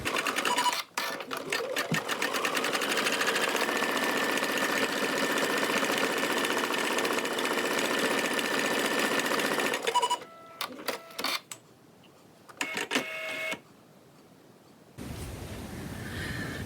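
A sewing machine stitches a fabric face mask, running loud and steady for about ten seconds, then stopping and starting in a few short bursts before going quiet.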